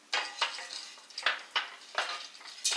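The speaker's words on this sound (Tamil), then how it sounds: "பொட்டுக்கடலையை மட்டும் லைட்டாக நெய் ஊற்றி வதக்கி எடுத்துறேன்" Roasted gram being fried in ghee in a pan is stirred with a utensil, giving a series of short scraping, rattling bursts about every half second, close and fairly quiet, with no voices.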